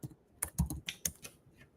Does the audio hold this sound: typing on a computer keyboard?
yes